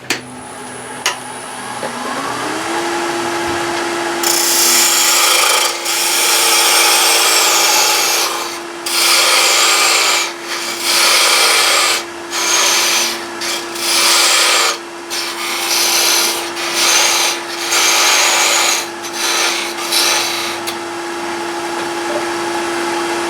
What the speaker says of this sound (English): somebody who knows how to make a light cut with a sharp tool on a lathe